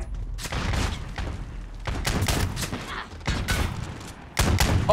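Bursts of video game gunfire, a rapid clatter of muffled shots in uneven volleys, close and moderately loud amid thumps and game noise.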